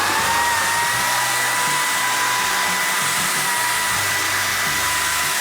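A Wagner Flexio 570 paint sprayer runs on its high setting with a steady, loud motor whine and airy hiss, continuous and unbroken throughout with no talking.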